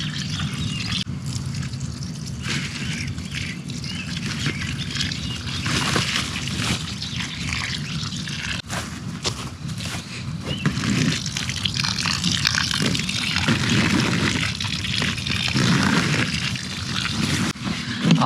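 Water pours steadily from a watering can into fabric grow bags of soil for planting potatoes, a continuous close gushing splash that runs the whole time with slight surges.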